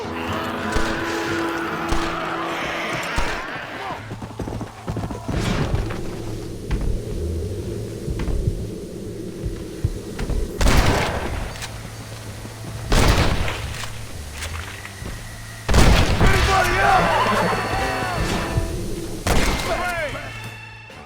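Gunfire in Red Dead Redemption: Undead Nightmare comes as loud, sharp rifle and pistol shots spread irregularly across a tense fight. Shouting voices and rumbling game noise run underneath.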